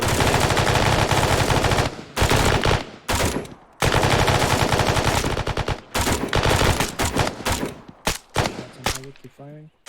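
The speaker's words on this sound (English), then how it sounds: "Keep firing." Machine gun fire at a position defense training range, loud sustained automatic bursts broken by brief pauses, tapering into shorter separated bursts toward the end.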